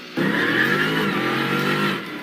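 A supercharged 6.2-liter Hemi in a 2015 Dodge Hellcat revs hard and loud up close, holding a steady roaring pitch for about two seconds before easing off.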